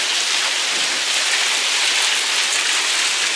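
Hail falls during a storm as a dense, steady roar of pelting ice, loud and continuous with no gaps, with no voices.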